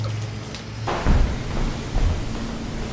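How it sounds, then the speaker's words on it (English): A continuous rush of rain fills the clip, with a couple of low thumps partway through and no voices. "Mom, I told you it was raining."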